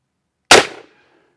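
A single loud revolver shot from a Cimarron in .44 Magnum or 10mm, a sharp close crack with a short ringing decay, surrounded by silence.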